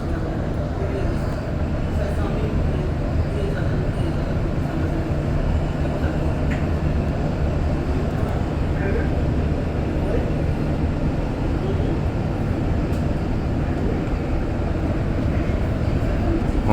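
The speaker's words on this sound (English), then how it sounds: "I'm looking forward to taking one train from one end of the REM to the other" REM light rail train riding between Brossard and Central stations, with a steady, continuous rumble of the moving car heard from inside throughout, broadband and even in level with no break.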